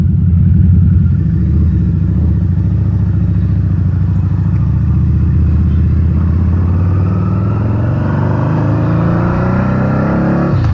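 A 2012 Harley-Davidson V-Rod Muscle 10th Anniversary motorcycle rumbles loudly while being ridden, its deep engine drone holding steady before rising in pitch as it accelerates toward the end.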